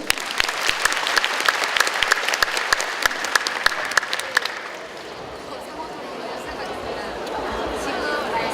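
A large audience at a citizens' debate forum in Ansan claps with crisp, dense applause for about four and a half seconds, then it fades into a murmur of crowd chatter.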